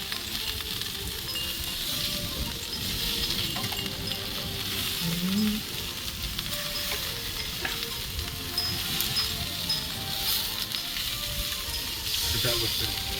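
A steak sizzles and spits in a hot frying pan during a Texas-style Christmas dinner, a continuous close crackle with occasional utensil clinks and stirring.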